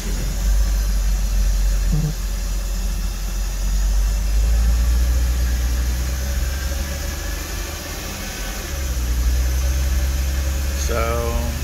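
A 2003 Porsche Boxster's engine hums steadily while driving slowly through a U-turn, with road and wind noise throughout, brief clicks, and a shift in engine tone near the end.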